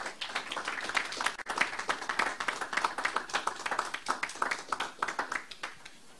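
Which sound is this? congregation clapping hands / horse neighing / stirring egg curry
congregation clapping hands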